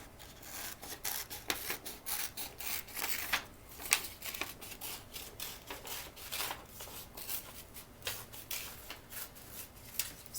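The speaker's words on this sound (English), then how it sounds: "now I'm going to cut that one out." Scissors snip and rasp through paper while cutting out a hand-traced circle, a steady run of soft, close crackling cuts and paper rustling with no talk.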